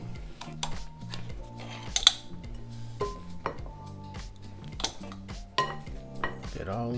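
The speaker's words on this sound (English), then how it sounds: "We're going to take our potatoes while they're still nice and hot. Put them into this ricer." A metal potato ricer pressing hot cooked potatoes, with repeated clanks and scrapes of metal against a bowl, and soft music running underneath.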